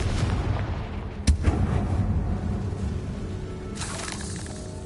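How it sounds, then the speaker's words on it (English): Confringo blasting spell in Hogwarts Legacy, a single sharp explosive crack followed by a short rumbling echo, then a fainter burst near the end, over a low continuous game ambience. "Confringo!"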